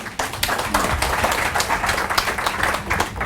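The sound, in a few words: audience applause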